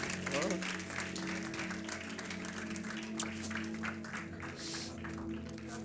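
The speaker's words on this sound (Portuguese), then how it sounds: "Give applause to the Lord." A church congregation claps during a bilingual worship service, the applause running throughout beneath sustained singing or musical tones and scattered voices, at a moderate, somewhat distant level.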